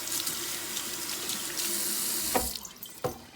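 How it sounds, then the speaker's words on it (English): Tap water runs steadily into a kitchen sink while hands are washed under it, with a few brief splashes and knocks near the end as the flow is shut off; no talking. "I'm going to wash my hands again."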